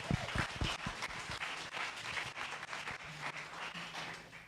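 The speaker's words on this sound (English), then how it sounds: "You can give a round of applause to Dr. Walker." Audience at a residential energy efficiency symposium claps after a speaker, a few sharp close claps at first giving way to a soft, fairly distant spread of applause.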